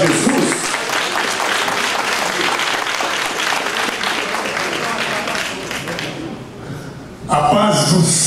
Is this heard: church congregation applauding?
yes